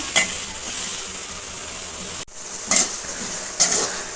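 Potatoes sizzle steadily as they fry in a hot pan, with a few brief scraping stirs breaking through the hiss.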